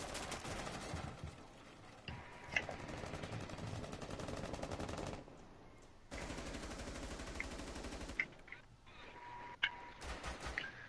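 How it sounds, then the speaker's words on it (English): Bursts of rapid automatic gunfire rattle in long stretches, broken by short pauses and a few sharper single shots, in the video game Rainbow Six Siege. "Me and one bloke are just proper going at it with gunfire."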